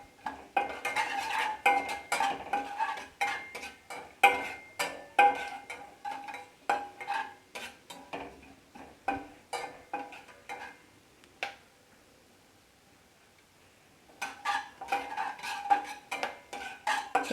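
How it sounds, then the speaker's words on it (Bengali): A metal spoon scrapes and clinks against a pan as spices are stirred and fried in oil for a Bengali doi chicken recipe, giving a busy irregular clatter, then a pause before the stirring starts again. "তেলের মধ্যে আমি দিয়ে দিলাম সব কিছু। এটা কয়েক সেকেন্ড আমি একটু নেড়ে নেব।"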